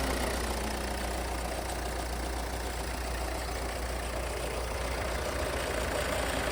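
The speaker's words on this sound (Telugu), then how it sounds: "ఇంజన్ నాయిస్ మాత్రం చాలా బాగుంది స్మూత్గా ఉంది" Steady low rumble of a 2015/16 Ford EcoSport Trend diesel engine idling, close and continuous, with a faint rhythmic knock and no voices.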